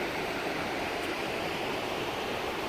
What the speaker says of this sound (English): You can kind of see the waterfall coming through the rock there in the gorge.